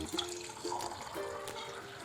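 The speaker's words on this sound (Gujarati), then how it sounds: "સૌથી પહેલાં આપણે ગરમ પાણી એડ કરી દઈશું એક ગ્લાસમાં" Hot water pours into a glass in a short, steady, faint trickle with a slight gurgle, heard close.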